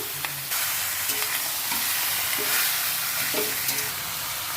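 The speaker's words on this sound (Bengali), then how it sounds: "কষা হয়ে গেছে পেঁয়াজ টমেটো, আমি এবার চিকেনটা দিয়ে দিলাম।" Chicken sizzling and frying in a pan with onion and tomato, a steady hiss broken by occasional stirring scrapes, close and alone.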